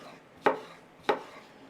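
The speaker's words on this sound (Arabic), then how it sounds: "بدنا نقطع الليمون بقشره" Two sharp knife chops cut through lemons with the peel still on, for a Lebanese lemonade, spaced about half a second apart on a cutting board, close and crisp against a quiet background with no talking.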